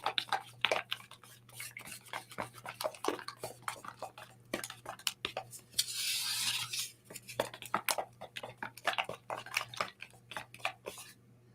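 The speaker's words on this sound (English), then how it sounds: "Let's stir this up and see what it looks like thus far" Stirring a homemade paint mixture meant to match an aluminum tin-ceiling finish: a steady run of close, clicky scrapes and taps against the container, with a brief softer swish partway through.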